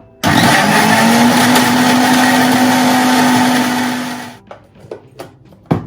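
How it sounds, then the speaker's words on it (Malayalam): A mixer grinder whirs loudly as it beats cake batter with eggs, starting abruptly, holding a steady motor hum for about four seconds, then winding down into a few knocks and clatters. "നന്നായിട്ടൊന്ന് മിക്സിയിൽ അടിച്ചെടുക്കാം"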